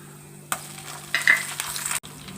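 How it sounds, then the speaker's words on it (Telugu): Ginger garlic paste frying in hot oil with tempering spices in a pan, with a steady close sizzle and bursts of stirring scrapes. "అల్లం వెల్లుల్లి పేస్ట్ వేసేసానండి"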